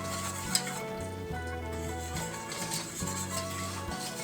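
A thick roux of flour and lard cooks in a pan over medium heat with a soft steady sizzle, broken by occasional stirring scrapes and one sharp clink of utensil against pan, close and fairly quiet.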